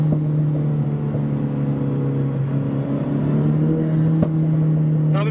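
A Renault Clio 4 RS engine holds a steady, droning rev close by, with a sharp exhaust crack near the end. The low hum runs continuously for the whole stretch, and no voices are heard.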